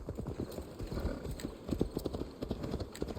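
Horse hooves clip-clop in a steady rhythmic walk in Assassin's Creed Valhalla, close and clear, with a faint whinny and ambient game sounds beneath.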